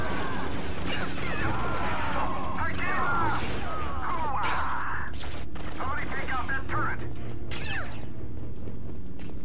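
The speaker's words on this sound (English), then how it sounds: "You keep shooting me" Rapid blaster gunfire in Star Wars Battlefront 2 crackles in quick repeated volleys and zaps, loud and close, while a voice talks over the action.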